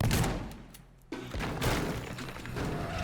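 Shotgun blasts and crashing debris in the video game Teardown, a dense run of loud thuds and booms with a short lull before the noise picks up again.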